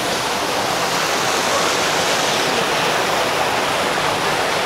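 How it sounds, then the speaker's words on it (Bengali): An indoor fountain styled after an airport waterfall pours water in a loud, dense, unbroken rush, close and constant throughout with no voices. "এইটা হচ্ছে সেই ঝর্ণা"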